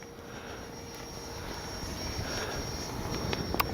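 A Freewing 90mm F-4 Phantom II radio-controlled jet flies just after takeoff with its gear retracted, a steady airy turbine whoosh that swells slightly as it passes, heard outdoors from a distance with no talk.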